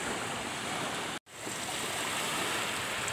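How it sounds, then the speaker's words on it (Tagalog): Ocean waves washing onto a Boracay beach make a steady, loud broadband surf roar that runs continuously, broken only by one sharp dropout of a fraction of a second. "ang hampas ng alon"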